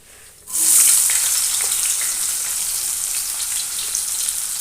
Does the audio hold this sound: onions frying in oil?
yes